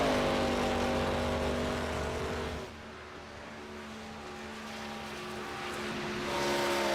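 Race car from an ARCA Cup racing video game at Michigan, a steady loud engine drone at high revs with harmonic whine, dipping partway through then building again as it runs a lap, no talking.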